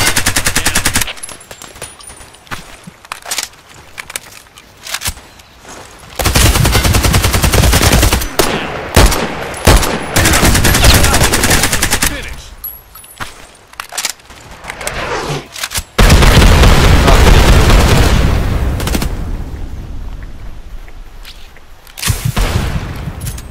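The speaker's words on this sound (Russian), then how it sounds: "Автомат Калашникова." Kalashnikov AK rifle fire in the shooter game Hired Ops rattles in loud, sustained automatic bursts, broken by short pauses and rapid single shots across the whole stretch.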